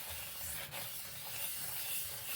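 A knife blade is worked in small circles on wet-and-dry sanding paper, giving a continuous soft, gritty rubbing hiss, faint and steady with no speech.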